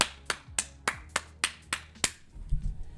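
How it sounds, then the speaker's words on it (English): A single person's hand claps on a podcast, seven sharp, evenly spaced claps about a third of a second apart, close and fairly quiet, followed by a brief low rumble of movement. "Can we get a hand clap of praise?"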